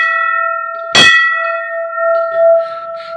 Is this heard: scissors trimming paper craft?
no